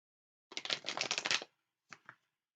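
A quick riffle of tarot cards being shuffled, a dense papery burst lasting about a second, followed after a pause by two short soft taps.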